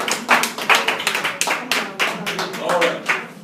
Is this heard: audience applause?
yes